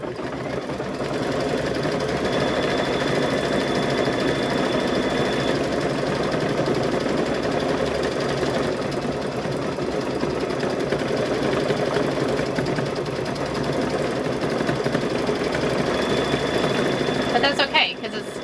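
An embroidery machine stitching quilting on a fall table runner runs steadily and loudly at a rapid, even mechanical hum, with a brief clatter near the end.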